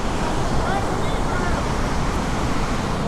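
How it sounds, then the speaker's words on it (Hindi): Flowing water of the Saraswati River near Mana village in the mountains, a steady, loud rushing roar with wind buffeting the microphone, continuous throughout. "ये माता सरस्वती नदी"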